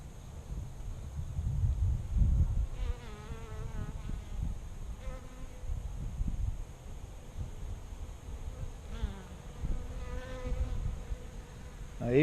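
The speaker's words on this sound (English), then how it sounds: "there's a honeybee, 2 or 3 honeybees here drinking" Several honeybees drone steadily as they hover close over a water dish filled with rocks, their buzzing pitch wavering as individual bees pass near and away, over soft outdoor background noise.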